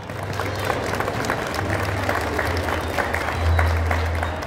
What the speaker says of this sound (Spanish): Fuerte los aplausos